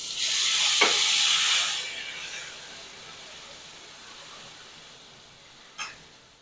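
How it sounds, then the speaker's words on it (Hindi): Spice masala dropped into hot oil with cumin and nigella seeds bursts into a loud close sizzle, fading to a softer steady hiss, then a sharp stir or clatter near the end, with no talking. "इसमें मम्मी ने थोड़ा सा जीरा और कलौंजी डाली थी, और अब मम्मी सीधा डाल रही है मसाला"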